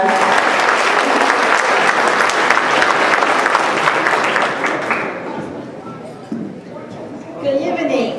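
Loud, dense applause fills a conference gala dinner hall as the organization's chair walks to the stage, then thins after about five seconds and leaves quieter room murmur and a few voices.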